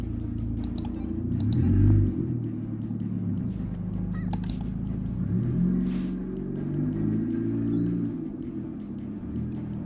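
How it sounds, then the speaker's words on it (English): A motorcycle engine revving in the background, a mid-range rumbling drone that rises and falls over several seconds, swelling near the start and again later, fairly distant with faint clicks overhead. "Fucking Motorcycle McGee over there in the background."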